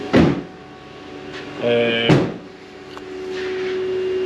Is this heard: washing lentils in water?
no